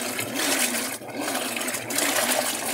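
A Whirlpool Cabrio washer with an F51 fault, which won't finish its cycle, churns a wash load: continuous sloshing water over a low motor hum, with short pauses in the swish, close by, with no talking.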